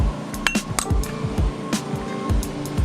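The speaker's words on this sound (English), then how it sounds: "my oil filter wrench slipping off" Metal oil filter wrench slipping and clanking on the oil filter of a 2018 Indian Scout Bobber motorcycle, a string of sharp irregular metallic clinks and knocks close by, no talking.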